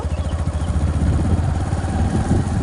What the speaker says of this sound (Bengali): আমরা এখন বাইকে করে যাচ্ছি।